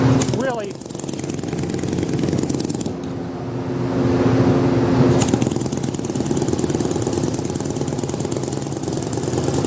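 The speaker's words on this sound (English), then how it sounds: "This is pressing the sand around the pattern" Foundry green sand being machine-rammed around a pattern in a molding flask: a loud, steady mechanical roar and clatter runs through the whole stretch, with a person talking over it.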